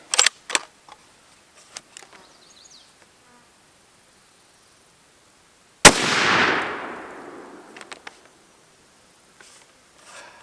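A 5.56 full metal jacket rifle round fires once, a single loud sharp crack with a short decaying echo, alone amid faint scattered ticks and clicks.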